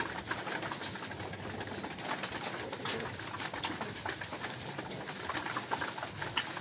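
Steady bird noise fills the clip, with soft racing pigeon coos and flutters blending into a constant background hum, no talking.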